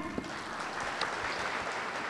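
An audience at a business plan lecture claps on cue, a soft, continuous patter of applause with no voices over it throughout the short stretch.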